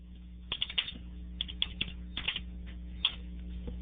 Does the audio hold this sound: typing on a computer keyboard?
yes